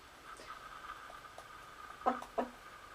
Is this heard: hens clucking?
yes